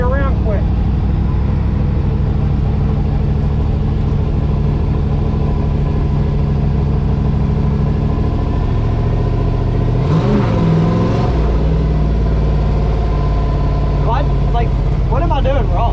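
Drift truck engine revving hard and steadily throughout while spinning, loud and close, with a brief tire-scrub burst partway and people talking over it.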